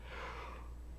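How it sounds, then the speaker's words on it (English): A person yawns once up close: a single breathy, drawn-out inhale that fades out in about a second. "We're just going to have to look past my yawning."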